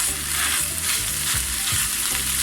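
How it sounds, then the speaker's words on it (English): Minced beef and pork with garlic sizzle loudly and continuously in a pan, a dense close-up hiss with low scraping thumps from stirring and no voices. "And then we're just going to stir it through and let that fry."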